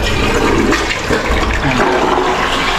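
A toilet in a newly plumbed bathroom flushes with a loud, close, continuous rush of water that lasts the whole moment without any talk.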